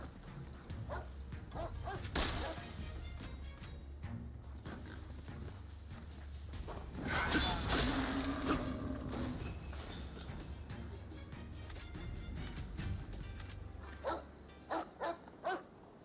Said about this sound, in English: Ah, there is a dog.